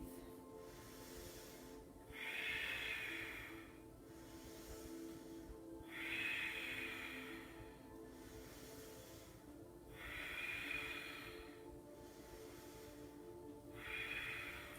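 Slow, deep breathing during a yoga pose: four long airy breaths about every four seconds, close and soft, with quiet pauses between them.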